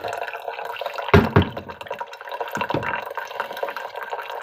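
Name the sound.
water dripping while brewing coffee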